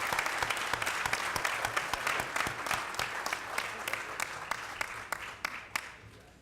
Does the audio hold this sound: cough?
no